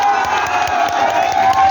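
A crowd at a political rally in Tariyani block, Sheohar, Bihar, claps and cheers loudly, with dense, continuous applause and shouting voices packed close together.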